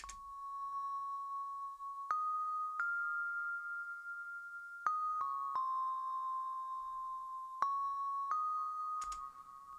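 A sustained sampled bell melody with a stereo widener applied, several ringing notes changing pitch every second or two, each entering with a bright strike, spacious and wide, no voices.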